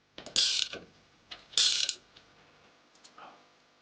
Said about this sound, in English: Press with socket wrench included.